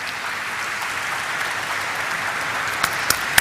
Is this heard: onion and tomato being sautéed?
no